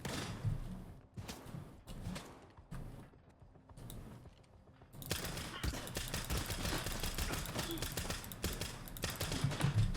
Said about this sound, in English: Let's try single shotting.